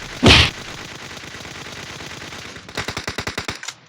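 Gunfire in the mobile battle royale game PUBG Mobile opens with a loud single blast, then a low mechanical rattle. A rapid automatic burst of about a dozen sharp shots follows, close and with no voices.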